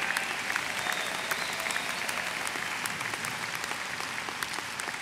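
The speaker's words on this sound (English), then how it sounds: "Let's have a round of applause for them as well." Commencement crowd applauding armed forces members at a 2018 college graduation ceremony, a dense, steady wash of many hands clapping that holds evenly for the whole stretch, with no talking over it.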